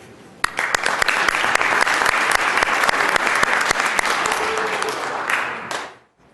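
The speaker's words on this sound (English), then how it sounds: "join with me in welcoming them with a round of applause" A round of applause in the Utah Legislature chamber, dense clapping rising sharply, holding steady and loud for about five seconds, then tapering off and fading out.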